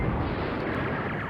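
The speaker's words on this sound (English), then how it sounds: "Oh, we have an airstrike." A single sustained blast from an airstrike in the wartime strategy game Command Ops 2 roars as dense, rumbling broadband noise for just over a second, loud and close with no break.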